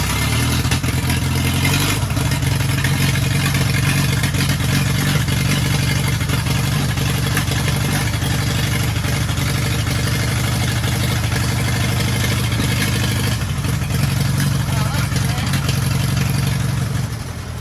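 A loud, rough Fordson Major tractor engine, running with no exhaust fitted, idles steadily and deeply throughout, close by, with a raw, unmuffled roar that dips slightly near the end.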